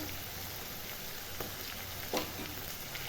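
Ginger paste sizzles in oil with fried onion and garlic while ghugni with mutton fat is cooked, giving a soft, steady frying hiss with a few stirring scrapes and no voices.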